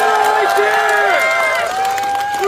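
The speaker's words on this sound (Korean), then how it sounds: "힘찬 박수와 응원의 함성 부탁드립니다." Rally crowd cheering and applauding in a dense, continuous wash, with whistles or shouted tones rising above the roar and a steady babble throughout.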